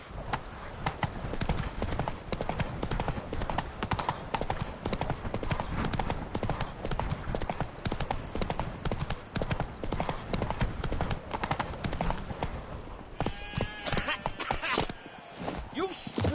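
The horse Roach's hooves clip-clop in a fast, steady rhythm across ground in The Witcher 3, loud and continuous, with game music and effects in the background.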